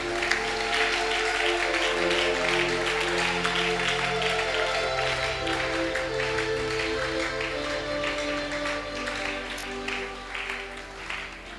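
A church congregation applauding and acclaiming the Lord, sustained clapping and voices filling a reverberant hall steadily for several seconds, with a musical drone underneath.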